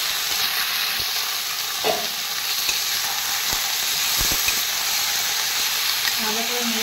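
Marinated chicken mince sizzles in a pan with fried spring onions while being stirred, giving a steady close hiss broken by a few sharp scrapes and clinks of the spoon.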